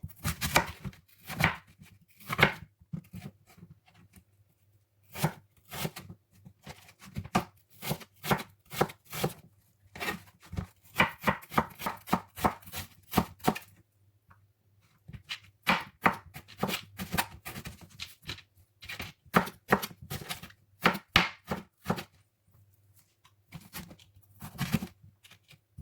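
A knife cuts cooking and eating apples into pieces for apple pie, producing many close, sharp chops on a board in irregular bursts separated by short pauses, with no voices.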